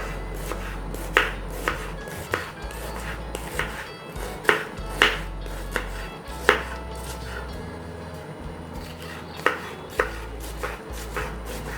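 Onion finely chopped with a knife for rice vada, a run of sharp, close knife knocks landing at an uneven pace over a low steady background hum.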